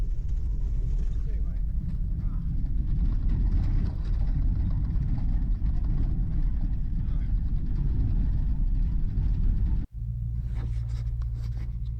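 A Dodge Ramcharger's cabin rattles and drones steadily while driving, a loud, dense, continuous clatter with a brief dropout near the end, followed by a lower engine hum.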